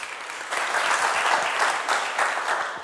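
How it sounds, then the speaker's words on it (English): A burst of audience clapping rises in a higher education reform conference room, starting moderately and swelling into a fuller, uneven patter of many hands for a few seconds. "Yes, clap."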